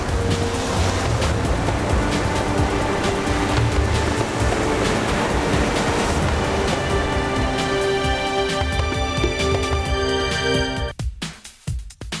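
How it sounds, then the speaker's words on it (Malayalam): Sea waves break on the beach at Colachel, Kanyakumari, making a loud, steady roar of surf that rushes on without a break and then cuts off sharply near the end. "ഇതിങ്ങോട്ട് വരാൻ നോക്കി നിൽക്കുകയാണ് ഈ തിരമാലകൾ"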